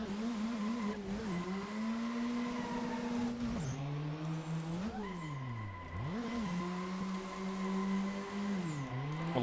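A turbo four-cylinder car drifting in Assetto Corsa, engine note rising and dropping through repeated revs and shifts, with a high whine and tire squeal running throughout, close and loud.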